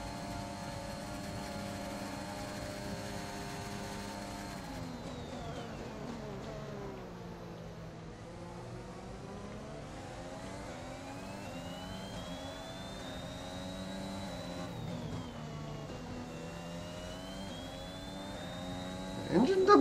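A race car engine in a Chinese Grand Prix career-mode racing video game drones continuously, its pitch sweeping down and up through gear changes and corners, steady and close throughout.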